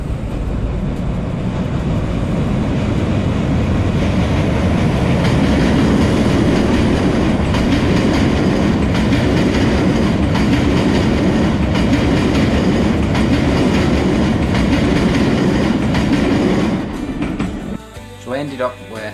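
A Jacobite steam train rolls past as a loud, steady rumble with rhythmic clickety-clack from the wagons, holding strong for most of the stretch before thinning out near the end.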